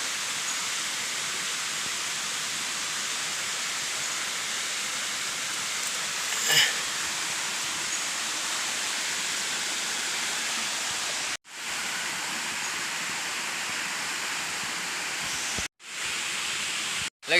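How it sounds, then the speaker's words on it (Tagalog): River water flows steadily and close, a broad constant rush by a riverside in a gold-prospecting area, with brief dropouts near the end. "Nandito tayo ngayon sa ilog."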